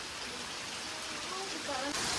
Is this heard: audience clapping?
no